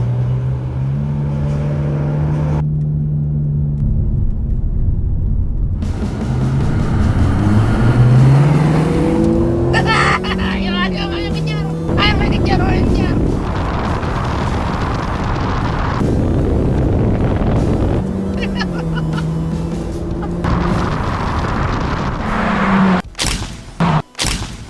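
Two 1500cc turbo cars, a Honda Civic Turbo Gen 10 FK4 and an HR-V RS SUV, launch in a drag race, engines revving and shifting loudly through rising and falling tones for most of the run.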